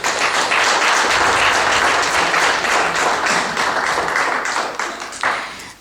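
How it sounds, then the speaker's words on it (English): A book launch audience gives Henry a dense, steady round of applause close by, holding strong for about five seconds before thinning out near the end. "I think we can give Henry another round of applause."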